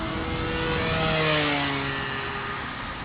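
Electric motor on a Dynam P-47 Thunderbolt RC plane at full throttle during a loop, a steady loud whine with harmonics that drift in pitch as the plane passes, heard alone.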